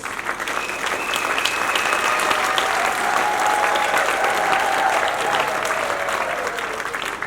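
A church congregation applauding as an archbishop is welcomed at a bishop's consecration service, a sustained, even wash of clapping from many hands, loud and close, with faint voices mixed in.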